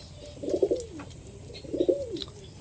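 Two soft pigeon coos, evenly spaced and close, over a quiet background.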